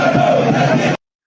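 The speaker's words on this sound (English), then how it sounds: "the crowd becomes rowdy as barriers are broken." A rowdy crowd at an outdoor presidential campaign rally surges in a loud, close roar of overlapping shouts and yells, then cuts off abruptly after about a second.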